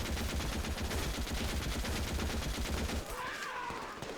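Sustained Vickers machine gun fire in the Call to Arms video game, a dense, rapid stream of loud shots for about three seconds before cutting off into a quieter tail with faint background tones.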